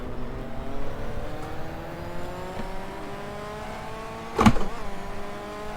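A JGTC race car in the GTR 2 racing game at Twin Ring Motegi revs steadily, its engine pitch climbing through the gears, with a sharp loud burst near the end.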